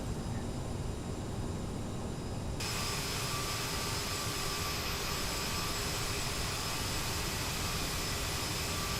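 Airliner engines in Microsoft Flight Simulator, on a PSA Airlines flight near Savannah, produce a faint, even drone that holds steady throughout with no voices over it.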